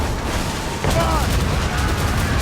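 Ship cannons firing in Assassin's Creed 3, Rogue and Unity naval combat, a dense rumbling barrage of booms that swells after the first second and rolls on continuously, loud and close, with battle noise mixed in.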